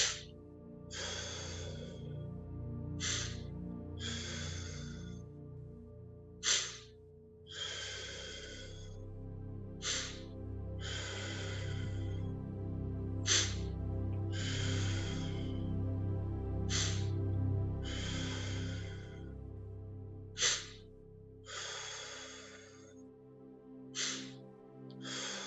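A group performs an energetic cleansing breathing exercise at a live event, with repeated sharp, forceful breath bursts in a steady rhythm over a low continuous background.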